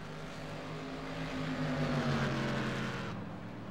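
Race cars lap the Sonoma track in a multi-class event, engines droning steadily as one car swells louder and nearer before the sound tapers off.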